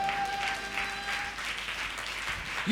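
A church congregation claps hands together during a Sunday service, a steady wash of rhythmic clapping from a crowd filling the room, with a sustained tone lingering underneath.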